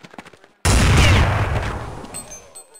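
Gunfire in a competitive shooter match: after a short stretch of quiet talk, a sudden loud blast hits and then rolls off in a long decaying echo and rumble.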